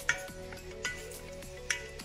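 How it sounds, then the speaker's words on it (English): Onion, butter and prosciutto sizzle over medium heat in a pan, a soft steady frying hiss with a few brief utensil clinks as the mixture is stirred, close and quiet with no talking. "now I hear my onion butter prosciutto mixture sizzling up"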